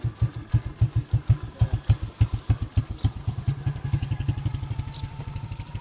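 A motorcycle tricycle engine runs at idle in a rural Philippine setting, its rapid, even low putter pulsing steadily and close by, alone without talk.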